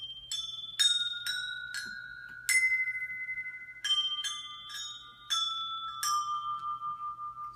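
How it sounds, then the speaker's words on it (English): A homemade chime struck note by note, each strike a clear bright ring that decays slowly, about ten strikes in a loose melody, close and alone over a faint low hum. "The chime produces a very nice clear ringing tone and is actually quite easy to play."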